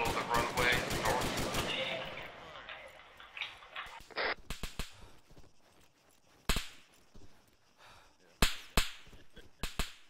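Video-game gunfire in a military shooter: dense automatic bursts in the first two seconds, then scattered single shots and short volleys at varying distances, with sharp isolated cracks later on.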